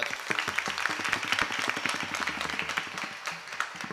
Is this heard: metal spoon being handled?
no